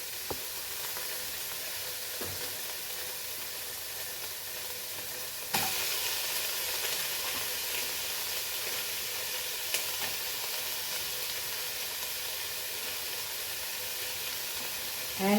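Tomatoes go into a hot frying pan for Goan cocktail sausage pulao, bringing a steady close sizzle that jumps louder partway through and then holds as an even frying hiss, with light stirring knocks.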